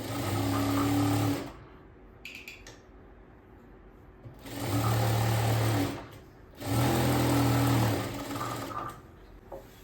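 A sewing machine stitches the inner seam of a blouse lining in three bursts of rapid whirring, each a couple of seconds long, separated by quiet pauses.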